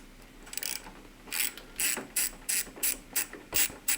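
A ratchet tool loosens a wire fitting on a driver's-side mod for a first-gen Toyota Tacoma camper, giving a series of about eight short, crisp ratcheting clicks in an even rhythm, close up and without speech.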